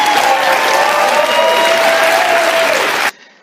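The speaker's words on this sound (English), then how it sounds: "What is everybody cheering for?" A studio audience on a daytime talk show cheers and applauds in a loud, continuous roar of claps and voices that cuts off abruptly near the end.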